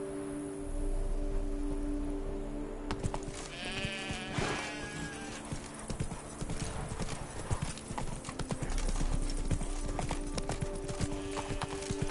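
Roach, Geralt's horse in The Witcher 3, clip-clops steadily in close hoofbeats over an ambient game bed, with a brief voiced animal call partway through.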